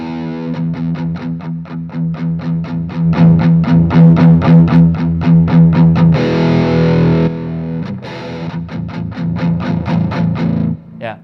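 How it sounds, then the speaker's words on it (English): A guitar through a cranked AMP1 amplifier with its power amp saturated, chugging repeated distorted chords in a fast steady rhythm, then sustained ringing chords, loud and close with no talk. "This is already power amp saturation."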